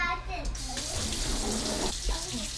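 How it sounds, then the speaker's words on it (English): A kitchen tap runs into a sink while rice is washed in cold water, a splashing, hissing stream with brief breaks, close by, as a voice speaks at the start. "gonna wash it in cold water."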